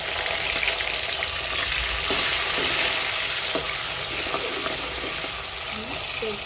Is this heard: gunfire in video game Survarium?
no